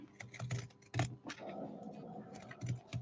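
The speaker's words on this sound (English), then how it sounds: "I'm going to take my jagged scissors" Jagged pinking scissors snip through fabric while trimming bulk from the edges of a handbag, giving a string of close, crisp clicking cuts in irregular rhythm.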